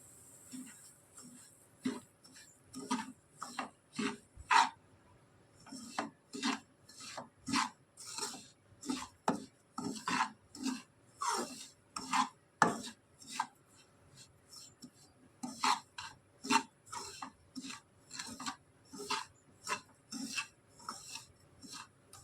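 Semolina being stirred in ghee in a pan for suji halwa, heard as rhythmic scraping strokes of a spoon against the pan bottom, close and fairly quiet, repeating steadily with short pauses.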